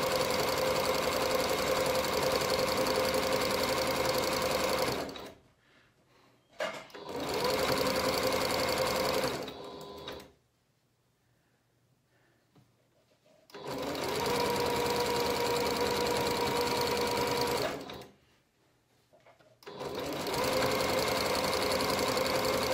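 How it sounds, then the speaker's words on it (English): A sewing machine stitching straight across the bottom edge of a pocket: loud, close, steady motor hum with rapid needle rhythm in several long runs, separated by short pauses and one longer gap of near silence. "Now I'm going to stitch straight across the bottom edge of the pocket."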